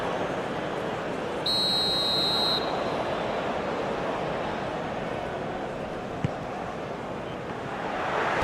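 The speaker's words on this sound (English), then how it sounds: "And the whistle's gone, presumably for offside." A referee's whistle in an eFootball video game match, Indonesia versus Bayern Munich, a single steady blast of about one second over constant crowd noise.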